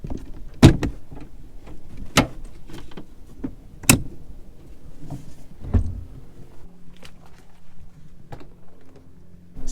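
Plastic trim panel clips pop off a Toyota Tacoma truck door in a string of sharp, separate snaps and clicks spaced a second or two apart, close and fairly loud, with faint handling rustle between.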